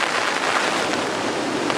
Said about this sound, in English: Rain is just coming down so heavy.